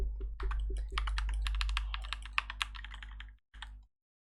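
Rapid clattering keystrokes on a computer keyboard as a chat message is typed during a Rise Online game session, a steady close burst of clicks with a brief pause near the end, no talking.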